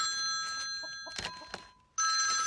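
An incoming call makes a telephone ring in repeated bright electronic bursts, one pausing briefly before loudly starting again, in a room with several phones.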